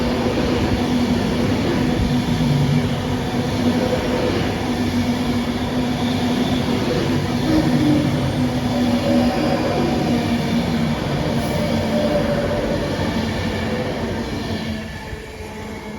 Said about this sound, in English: let's bring you around the camera and show you this West Coast Railways. There we are, 47 drains and carriages